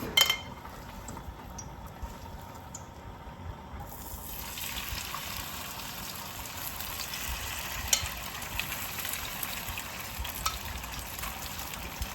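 Steady sizzling and crackling of beef frying in hot sesame oil for a stir-fry, with occasional stirring, continuous and close throughout.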